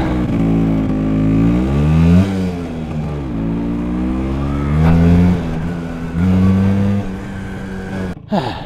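A Vespa scooter engine runs loud and close as it pulls away in first gear, its buzzing two-stroke tone climbing in pitch in repeated surges before easing off.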